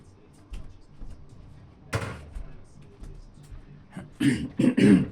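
Several harsh coughs from a nearby person, a single burst early on and then a tight cluster of louder rasping coughs at the end.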